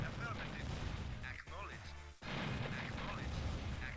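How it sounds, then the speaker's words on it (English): Command & Conquer: Red Alert game sound effects with a deep boom in the middle, surrounded by dense rumbling and gunfire-like bursts. "I saw a bigger explosion"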